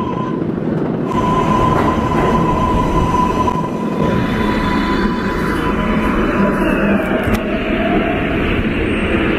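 A New York subway 4 train rolls into the station with a loud, steady rumble and rattle, a long high wheel squeal running over it, growing closer as it arrives.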